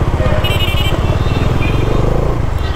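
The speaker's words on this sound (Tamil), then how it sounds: "இந்த எக்ஸாஸ்ட் சவுண்டும் வேறு லெவலில் இருக்குங்களா." Bajaj Dominar 400 (2022) motorcycle with a twin-barrel exhaust, heard while riding: a loud, steady, bass-heavy engine drone with rapid firing pulses, close and continuous, with no speech over it.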